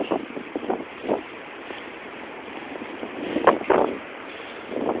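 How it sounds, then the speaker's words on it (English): Strong nor'easter wind gusts of about 50 miles an hour buffet the microphone outdoors near trees and power lines, a steady rushing roar broken by several louder bursts. "Wind gusts are still up to about 50 miles an hour."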